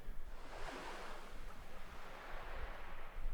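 Sea waves off the Irish coast wash in with a broad, steady roar and surf hiss, rising and falling gently, mixed with some wind rumble and no voices.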